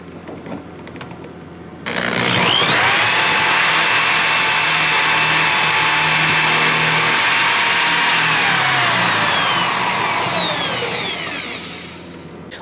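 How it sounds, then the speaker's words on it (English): A power drill whirs up to a loud, steady high-pitched whine as it bores holes through wood held in a clamped jig, running for about ten seconds before winding down, close and alone. "I've got my first 2 holes drilled"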